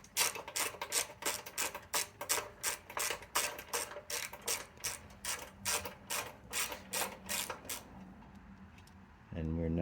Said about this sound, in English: So we're going to take off these 4 bolts off of this cover.